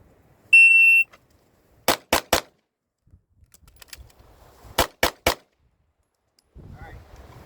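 A Glock pistol fires two quick volleys of three sharp shots each at a target, loud and percussive with crisp gaps, preceded by a brief electronic timer beep and followed by faint handling noise.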